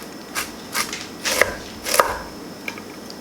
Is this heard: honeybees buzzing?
no